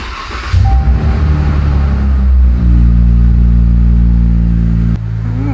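A Dodge car engine cranks and catches, then settles into a steady, loud, close idle, with a short clunk near the end as it keeps running.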